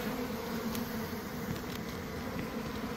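Steady honey bees buzzing close by at an opened hive during a beehive removal, a dense continuous hum of many insects with no voices.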